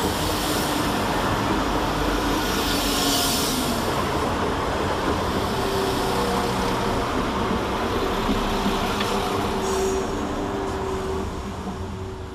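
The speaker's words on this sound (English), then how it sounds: "arriving next into the station is 172221 and 172001, working the 1026 West Midlands Railway service from Whitlock's End to Kidderminster" West Midlands Railway units 172221 and 172001 rolling into Smethwick Galton Bridge station on a service to Kidderminster: a loud, continuous rumble of wheels and engines, close by, with no voices over it.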